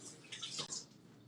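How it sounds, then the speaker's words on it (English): Tap water running into a sink while hands are washed, a brief splashing rush that rises and then tapers off, heard fairly close and on its own. "Let me wash my hands to get the graham crackers off."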